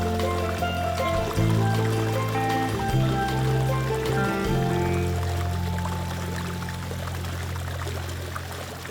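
Water rushing and splashing down a massive rock waterfall in Kumrat valley, a continuous full stream under sustained tonal hum that fades slightly toward the end.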